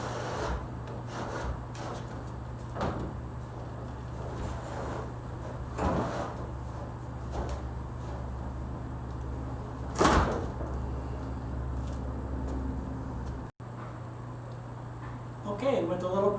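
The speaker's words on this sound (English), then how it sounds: "with a little persuasion, we was able to get this panel off" A curbside panel is pried off a vintage teardrop trailer: scattered knocks, creaks and one sharp bang over a low steady hum, close by and fairly quiet, with a voice speaking at times.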